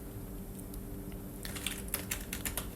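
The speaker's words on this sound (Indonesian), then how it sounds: "Jadi kita ketik perintah" A command being entered on a computer keyboard: quick bursts of light key clicks in the second half over a steady background hiss, close but faint.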